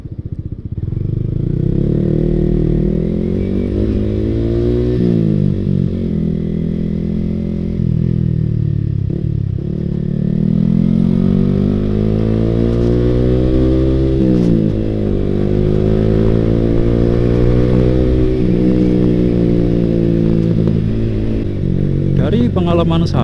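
A Yamaha R15 V3 motorcycle with a Ronin Hanzo NextGen racing exhaust idling and revving repeatedly, loud and throaty, rising and falling in pitch for a long stretch, close up.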